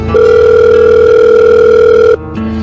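A loud, steady telephone ringback tone sounds for about two seconds, then cuts off and a lower tone follows briefly.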